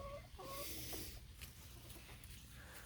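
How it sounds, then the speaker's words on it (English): A hen clucks softly a few times while being held and snuggled in a backyard chicken coop during morning egg collecting, faint and close against quiet background noise. "Snuggling a chicken."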